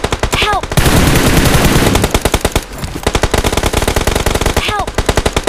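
Rapid automatic gunfire from a battle royale shooter rattles in dense, loud bursts, with a sustained volley early on and then quick repeated shots, plus a brief ricochet-like whine near the start and end.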